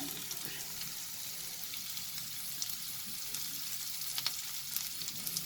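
Spring onion whites and garlic sauté in a hot pan for chicken fried rice, giving a steady, close sizzle with scattered scraping and stirring clicks throughout.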